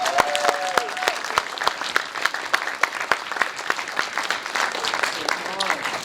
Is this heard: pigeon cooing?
no